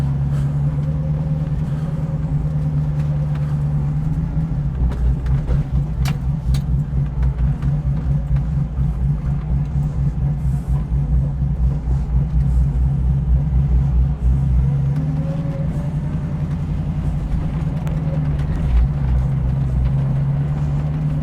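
A 1967 Firebird drives along a rough unpaved road in low gear, its engine a steady close rumble that swells and eases as it rolls, with occasional knocks and rattles over the bumps.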